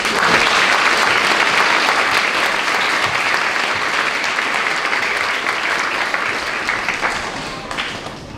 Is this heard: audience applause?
yes